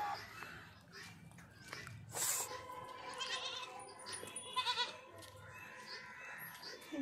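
Goats bleat several times at a farm where they are being penned, the cries mid-distance over low rustling and footsteps, with faint voices underneath.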